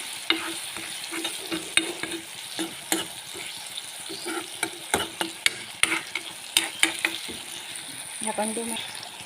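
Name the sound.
tomato and onion stirred and frying in a pan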